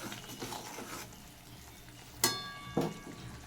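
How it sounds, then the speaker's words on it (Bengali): Ground spice paste cooks with tomato paste and salt in a pan, producing a soft, low sizzle that is fairly quiet, broken by two distinct metallic clanks of a spoon against the pan. "এবার ভালো করে মশলাটাকে শুধু কষাতে হবে।"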